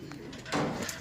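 A pigeon gives a single short, soft coo, close and faint against quiet background noise.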